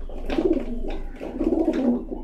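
Pigeons coo nearby in soft, throaty rolling calls, several repeated phrases in a steady rhythm with no talking, while a pigeon is being given vaccine drops by mouth and eye.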